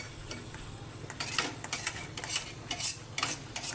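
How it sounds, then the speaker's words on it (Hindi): A spoon scrapes and taps against a pan while thick besan batter is stirred, producing faint, irregular clicks and scrapes over a quiet background. "जब तक पेन को छोड़ने नहीं लगे तब तक इसको कंटिन्यू चलाते हुए पकाना है"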